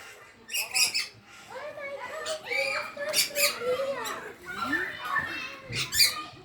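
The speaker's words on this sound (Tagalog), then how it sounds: "Ayun po yung mga iba-ibang klaseng ibon." Cockatoos, including pink Major Mitchell's cockatoos, and other parrots such as rainbow lorikeets squawk in Marsupial Park, Tamworth, with repeated harsh shrill calls, some close and loud, over continuous background chatter.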